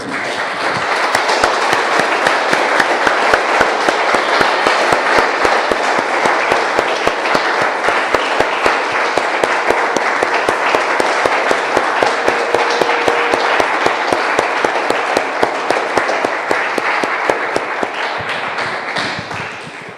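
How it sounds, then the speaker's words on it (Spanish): Church congregation applauding together, dense and loud rhythmic clapping that holds steady for the full stretch and tapers slightly at the end. "Damos un aplauso, hermanos."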